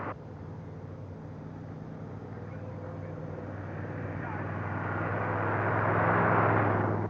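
A car approaches during stunt filming for a 1982 movie, a steady engine rumble with a broadband rush that grows gradually louder as it nears.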